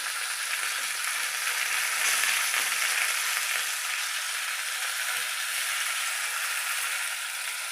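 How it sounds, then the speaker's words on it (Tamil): Masala-coated fish frying in a pan, with a steady, close, bright sizzle and crackle that runs throughout and no talking. "பாருங்கள், மசாலாலாம் நல்லா ஃப்ரை ஆகுதுங்க"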